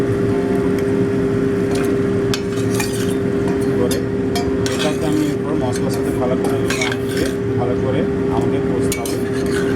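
Bhetki fish bone chorchori being stir-fried in a pan, with steady sizzling, scraping and clinking of a utensil against metal, continuous and close, under a steady background hum and occasional talk.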